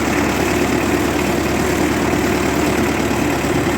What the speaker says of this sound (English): Nice little tractor.